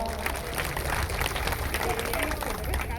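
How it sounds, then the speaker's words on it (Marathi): Audience at a public kirtan in Pimpri Nirmal clapping together in a sustained, dense burst of applause, steady and fairly loud throughout with crowd murmur mixed in. "एकदा जोरात सर्वांनी टाळ्या वाजवा"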